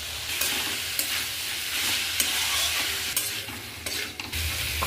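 Soybeans tumble into a pan of spice paste frying in oil, bringing a steady sizzle with scraping stirring strokes and a few sharp knocks of the spoon against the pan.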